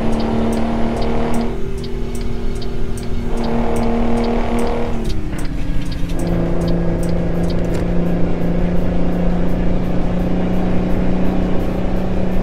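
Truck engine in the American Truck Simulator video game: a loud, continuous droning rumble whose pitch dips and shifts as the gears change, with no talking over it.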